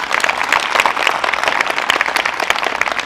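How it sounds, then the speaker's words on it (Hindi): Children at a school gathering applaud loudly, a dense, continuous patter of many small hands clapping at once for about three seconds, with no pauses. "जोरदार ताली बजाओ।"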